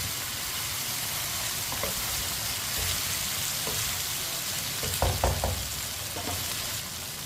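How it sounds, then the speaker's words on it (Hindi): Potatoes fry in a pan while cooking aloo gosht, giving a steady, dense sizzle with a few soft clicks and stirring scrapes near the end. "आलू को भी 2 मिनट के लिए मैंने फ्राई कर लिया है।"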